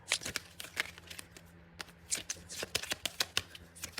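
Tarot cards shuffled by hand, a quick run of crisp riffling snaps and flicks close by, repeating in bursts over a quiet background, with someone talking softly at times.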